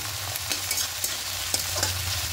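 Chopped tomato and four green chilies fry lightly in a pan, giving a steady close sizzle with a few sharp spatula scrapes and taps spread through the clip. No one speaks.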